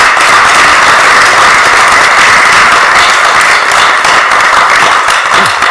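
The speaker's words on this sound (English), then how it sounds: "could we give them a round of applause?" Audience applause at a Philadelphia city council presentation honoring behavioral health services staff, a dense, steady wash of many hands clapping loudly and continuously throughout, with no voices heard.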